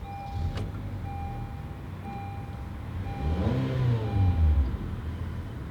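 A 2016 Honda Accord Sport is started with a key, giving a short cranking whir and a rising rumble that settles into a smooth idle. A steady electronic chime tone sounds in the background.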